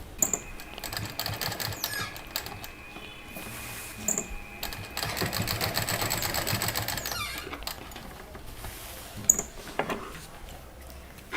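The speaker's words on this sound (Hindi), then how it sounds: "सिंपल एकदम जैसे चेक काटते हैं उसी तरह से हमने इसमें चेक की सिलाई की है" A sewing machine stitches a patchwork quilt in a steady fast whirring run of needle strokes. The run swells in the middle, then slows to brief stops and small clicks, with no talk.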